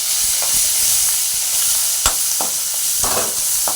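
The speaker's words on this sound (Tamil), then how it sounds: "இதை நான் இந்த இஞ்சியை நான் இதிலே போட்டு வதக்கிடுறேன்." Ginger and green chillies sauté in a couple of spoons of oil in a kadai, a steady close hiss of frying broken by several sharp spoon scrapes and stirring knocks.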